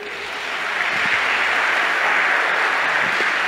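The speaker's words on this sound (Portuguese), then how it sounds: "Salva de palmas para a tua igreja." A church congregation breaks into applause, building over the first second into a steady, full round of clapping from many people that continues evenly to the end.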